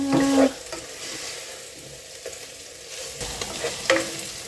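Pork browning in a pan for pork menudo, with a sizzling fry under repeated scraping stirs that come in louder bursts at the start and near the end.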